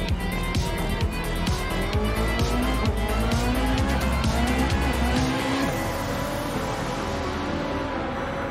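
A Porsche road car in Gran Turismo 7 races at speed, its engine note rising through the gears with brief tyre squeal and a shift, loud and continuous throughout.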